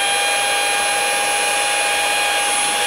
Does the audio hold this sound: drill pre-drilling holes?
yes